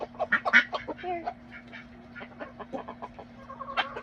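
Chickens cluck and squawk in short, irregular bursts while being hand-fed bread, close and fairly soft against a low steady hum.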